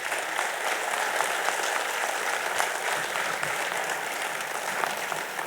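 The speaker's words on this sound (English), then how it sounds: "can we have a thunderous applause for all the leaders on the stage?" Sustained, dense applause from a convention audience honouring leaders on stage at a national cost and management accountants gathering, steady and full throughout with no talk over it.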